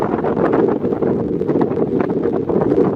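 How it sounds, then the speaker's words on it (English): Strong, continuous wind on a hilltop at Cape Cornwall, England, buffets the microphone with a dense, roaring rumble that never lets up. "Pretty windy up here."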